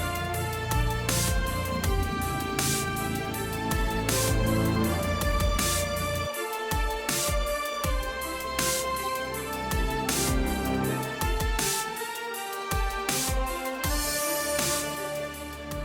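Orchestral video game music cue for a mech bot enemy attack, with strong brass and high and low strings playing loud, dense, driving phrases with punchy accents throughout.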